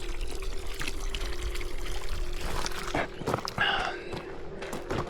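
Water pouring as a bottle is filled from a constantly running outdoor water source during a motorcycle trip in Latvia, a steady splashing flow under nearby voices.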